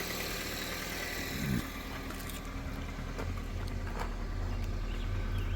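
A 2004 Toyota Matrix engine runs steadily at idle after a coil replacement, with a low, even hum and a faint rhythmic tick throughout, close by, and nobody speaking.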